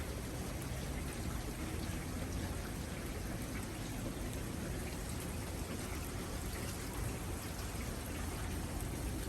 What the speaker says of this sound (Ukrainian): нарешті пішов дощ